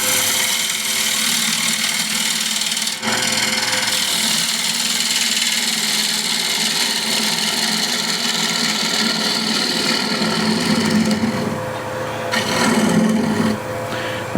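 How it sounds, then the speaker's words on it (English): A ball gouge scrapes and rasps continuously against a piece of wood spinning on a lathe as its face is flattened, loud and close, with a brief pause and shifts in the cut's texture. "what I'll do first is just flatten this, and that I'll use a ball gouge"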